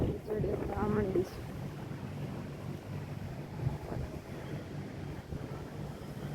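Strong wind blows ahead of rain, roaring steadily into the microphone outdoors, while a voice speaks briefly at the start.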